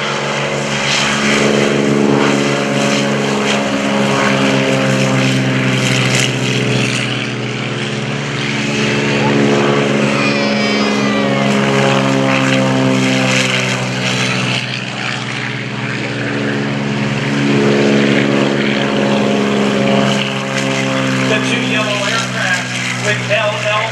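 A Beechcraft T-34 Mentor propeller plane flies at an airshow, its loud droning engine rising and falling as it passes, with a public-address announcer talking over it.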